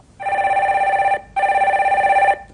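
Telephone ringing as a call is connected on a phone-in broadcast, two long loud electronic rings separated by a short pause, close and clear with no talk over them.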